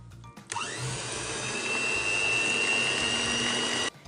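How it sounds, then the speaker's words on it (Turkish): An electric hand mixer whisking eggs until foamy starts up and whirs steadily at high speed for a few seconds, then cuts off abruptly, close and fairly loud. "İyice köpük köpük olana kadar mikserle iyice çırpıyorum."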